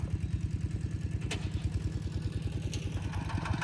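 A tractor engine runs steadily while plowing a rice paddy, with a close, continuous low chugging idle and a fast regular knock throughout. Only faint brief clatter sits above it.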